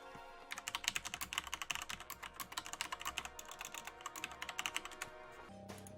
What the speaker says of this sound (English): Furious typing.